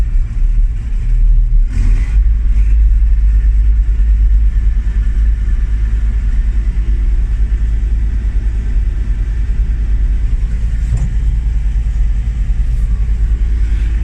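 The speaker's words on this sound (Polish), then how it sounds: "Silnik tutaj jest y, DAFA 360 koni," A New Holland 2205 forage harvester with a 360 hp DAF engine runs with a loud, steady low rumble that holds throughout, close by, with a brief clatter near the start.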